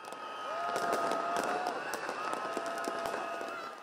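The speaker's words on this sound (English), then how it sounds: "The crowd goes wild." Crowd roaring and cheering wildly in Egypt after the military coup removing President Morsi, a dense sustained wall of voices with whistles and shouts, loud and continuous throughout.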